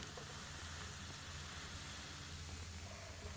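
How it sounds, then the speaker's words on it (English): Steady broadband hiss of steam venting in the game Crisol: Theater of Idols, continuous and even throughout with a low rumble underneath, no talking. "Sounds like steam."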